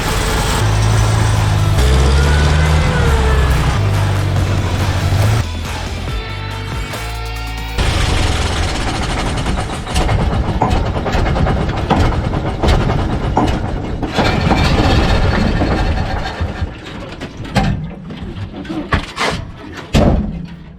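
Engine of a communist-era fire engine, either a German Robur or a Polish FSC Żuk, roaring loudly and then crackling and burbling on overrun as the revs fall, close and continuous.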